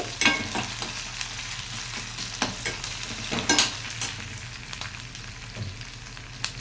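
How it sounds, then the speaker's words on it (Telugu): A spoonful of ginger garlic paste fries in a pan, crackling softly while a utensil stirs and scrapes in irregular bursts, close up and free of speech. "మనం అల్లం వెల్లుల్లి పేస్టు ఒక స్పూన్ వేసుకున్నాను"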